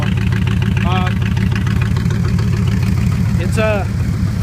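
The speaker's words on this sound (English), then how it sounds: "it's a pretty loud engine" A 1978 Chevrolet Camaro Type LT engine runs at idle with a loud, steady, throbbing rumble, while a voice speaks briefly over it.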